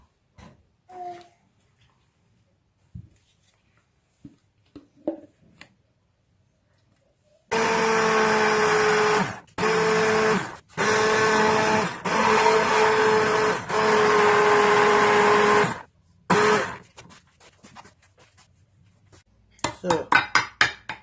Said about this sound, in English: So I'm tired of stick blending.